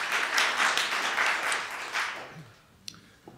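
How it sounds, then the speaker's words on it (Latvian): Short burst of audience applause at a lecture event, a few seconds of lively clapping from a modest crowd that fades quickly into near quiet with a couple of stray clicks. "Jā, paldies par aplausiem"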